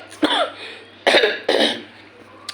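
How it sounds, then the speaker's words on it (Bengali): Three harsh coughs in quick succession, close and loud, with brief silences between them. "একটু জোরে কথা বলে কাশি উঠছে"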